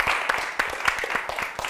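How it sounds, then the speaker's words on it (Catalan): A small studio audience at a televised Catalan spelling contest gives brief, sparse applause, with a handful of distinct, fairly close claps over a couple of seconds. "Fort aplaudiment per la Laia, que gairebé suma aquests 100"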